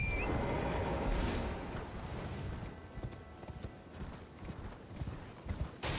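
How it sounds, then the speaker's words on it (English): A horse's hooves clip-clop in Elden Ring: Shadow of the Erdtree as a rider mounts up, a rapid run of close hoofbeats over an ambient wash, getting sparser and more irregular toward the end. "I'm going to hop on the horse"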